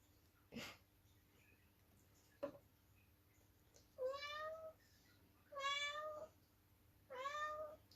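A cat meows indoors, three drawn-out, fairly close meows in a steady rhythm after a couple of faint clicks, with only quiet room hum between them.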